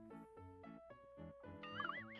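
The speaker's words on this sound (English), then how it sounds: "You found the cat." Cartoonish cat meows from a video game sound-guessing game, a rapid series of short, tonal electronic mews followed by a longer warbling cry, clean and close.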